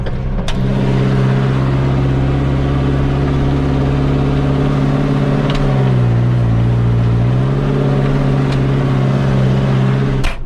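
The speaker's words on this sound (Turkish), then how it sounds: "Sadece normal bir traktör sesi." A tractor engine runs steadily at a low, heavy idle, with a brief rise in pitch midway like a light rev before settling back down.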